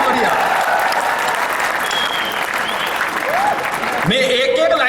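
Audience at a live Hindi comedy poetry show applauding, a dense steady wash of clapping from a large crowd that runs throughout before a voice begins to speak near the end.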